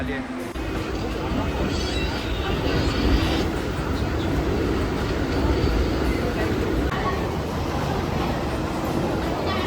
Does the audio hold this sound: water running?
no